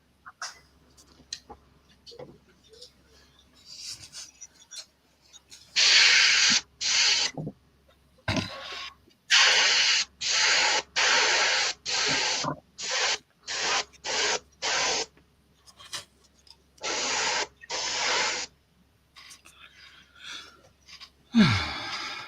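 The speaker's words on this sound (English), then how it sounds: "that's JC now spraying with his compressor" An airbrush run from a compressor sprays paint in repeated short hissing bursts, each lasting about a second with brief pauses between, against a quiet room.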